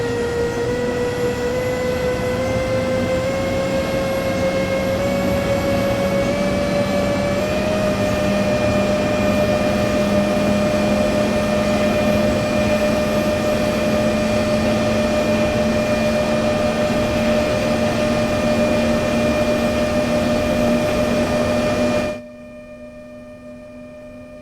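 A BR 146.2 electric locomotive in Train Sim World 4 accelerates with its musical motor whine, steady stepped tones gliding upward over a loud continuous rumble, heard alone until it cuts off near the end.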